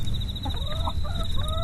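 Chickens cluck softly in short, close calls over a low background hum as they settle in for the night, with a thin steady whine running behind them.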